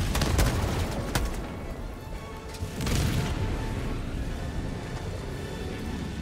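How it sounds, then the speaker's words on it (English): An orbital strike in the video game Helldivers 2 lands as a rapid series of heavy booming blasts and crackling explosions. Loud bursts cluster near the start and again midway, with rumbling debris between them. "Orbital strike incoming"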